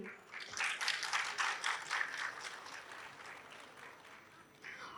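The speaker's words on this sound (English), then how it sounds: "please give yourself a huge round of applause" Parents applaud at a school annual day celebration, a dense burst of many clapping hands that swells quickly, holds steady and then thins out gradually before a brief renewed flurry at the end.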